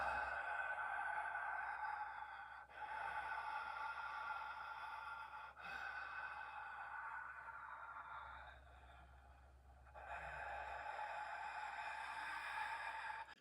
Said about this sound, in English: So you can hear that I'm moving a lot of air